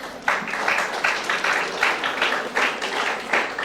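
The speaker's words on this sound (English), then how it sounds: "So you can give them a big round of applause." Audience applause for the management at an English magazine first-issue launch, steady rhythmic clapping from a room of people lasting several seconds.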